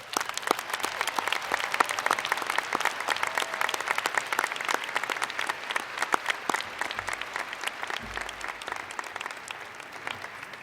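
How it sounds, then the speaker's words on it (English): Steady applause from a graduation audience at a spring undergraduate business school commencement, dense clapping sustained at even loudness for about ten seconds, heard from within the crowd. "join me in giving these amazing folks a thunderous round of applause they so rightfully deserve"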